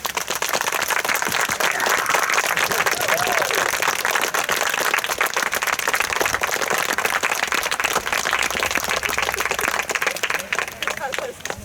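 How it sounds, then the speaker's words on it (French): Wedding guests applauding, sustained loud clapping from a crowd that continues steadily for over ten seconds with faint murmuring mixed in. "chaleureux applaudissements. Go!"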